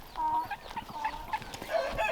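Bantam chickens and a rooster clucking in a new chicken run, with several short, close, fairly loud calls overlapping in an uneven rhythm and no talking.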